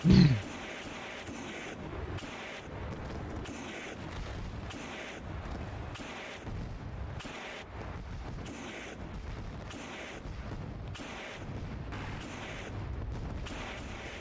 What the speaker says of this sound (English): I'm going to do the fireworks sound effect as I go down the back straightaway for you